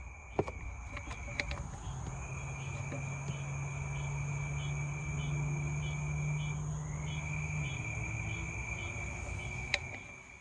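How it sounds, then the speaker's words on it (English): Steady nighttime chorus of frogs and insects, a continuous low trilling drone with higher chirps layered on top, moderately loud and unbroken throughout. "I got frog noise."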